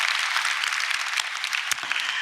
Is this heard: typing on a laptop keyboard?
no